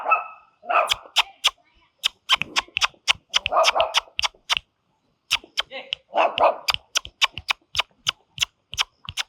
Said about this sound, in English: Oh, there is a small dog also.